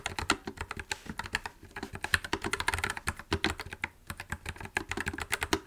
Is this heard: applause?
no